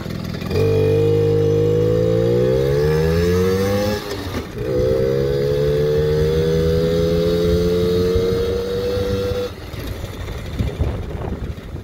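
A Suzuki JR 50 motorcycle engine revs up in first gear, drops briefly as it shifts into second and then climbs again. The small engine is close and loud and winds down near the end.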